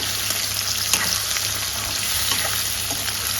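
Small chopped pieces of mutton blood fry and are stirred in a pan, giving a dense, steady sizzle with occasional soft scrapes, close up and continuous.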